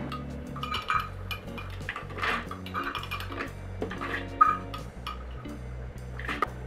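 Ingredients for raw brownies, including pitted dates and a pinch of salt, are tipped into a food processor bowl, giving a run of light clinks, knocks and scrapes against a low steady background hum.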